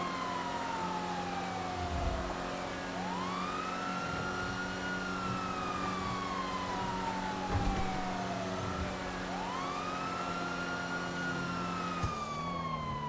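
Police siren on a Bravado Dorado Cruiser patrol vehicle in GTA5: a loud, continuous wailing siren sweeping slowly up and down in long cycles over a steady engine hum, heard alone without talk.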